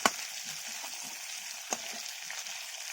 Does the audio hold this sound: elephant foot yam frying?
yes